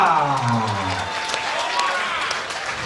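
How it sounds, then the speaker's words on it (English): A boxing crowd cheers and applauds in a broad roar, with an announcer's amplified voice fading out at the start. "Listen to the crowd here."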